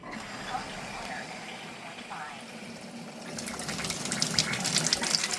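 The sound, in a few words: water running from Enagic K8 ionizer faucet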